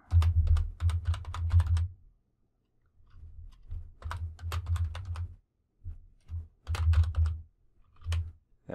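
Keys clatter on a computer keyboard in bursts of quick typing separated by short pauses, close and clear with no talk.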